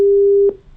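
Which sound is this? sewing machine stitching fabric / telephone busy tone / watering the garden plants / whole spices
telephone busy tone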